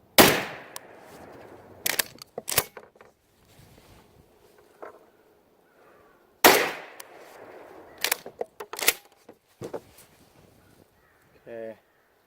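A Tristar Raptor shotgun fires single shells, two loud booms spaced apart, each followed by quick clacks and rattles of the bolt being worked by hand, with quiet gaps between.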